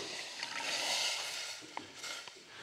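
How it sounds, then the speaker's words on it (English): A spoon stirs a pot of simmering liquid on the stove, giving a soft continuous swishing with faint sizzle underneath and a few light clinks against the pot. "Give that a stir."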